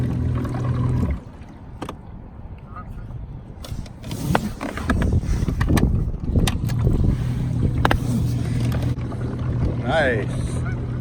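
A Jonny Bass 100 steerable motor pod running through water, its steady low motor drone and water wash carrying on close by, with gusts of wind buffeting the microphone.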